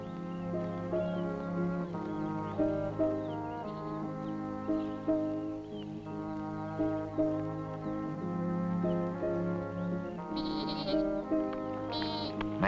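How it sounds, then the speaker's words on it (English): A small kid goat bleats repeatedly in short wavering cries over a steady musical score, the calls fairly close and prominent throughout. "My baby goat is dying of hunger."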